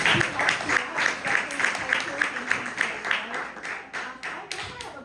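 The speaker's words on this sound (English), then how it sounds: "let's give a round of applause for those adults who helped you out" Audience applause at an intercultural festival panel discussion, clapping from a room of people with audible individual claps, steady at first and thinning slightly toward the end, with some voices underneath.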